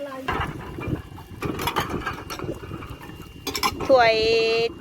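Relatives washing cups, dishes and bowls together to prepare for a ceremony, with clinking crockery and splashing water under steady chatter from several people nearby.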